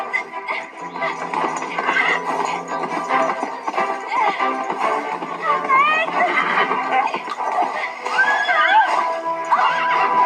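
A horse neighs and whinnies repeatedly in loud, shrill bursts over a dense, busy background, with some clattering and other voices mixed in.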